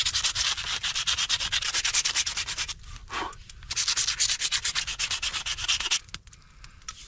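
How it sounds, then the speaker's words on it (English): A hand-forged knife blade being sanded outdoors in the wilderness: fast, rhythmic rasping strokes, close and loud, with a short pause midway and a trailing stroke at the end, no talk. "Oh, now we sand."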